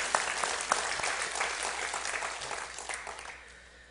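Church congregation applauding together in a steady, dense clapping wash that slowly fades out toward the end, with no talk over it.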